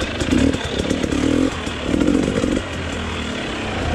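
A KTM XC-W dirt bike engine drones steadily and close while riding a slow trail in first gear, its note rising and dipping with small throttle changes.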